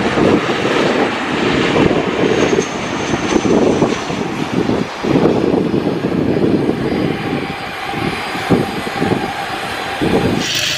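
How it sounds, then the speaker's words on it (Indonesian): A toy airplane's engine whirs loudly and steadily, broken by a few short gaps, with a constant droning hum close to the microphone and no talking. "di sini ada pesawat terbang."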